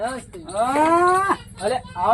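Cattle moo loudly and close on a farm, one long drawn-out low call followed by shorter lowing, with no talk over it.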